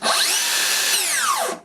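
A Makita 40V plunge saw spins up with a loud high whine, runs briefly, then its brake drops the pitch in a quick sweep to a stop, with no talk.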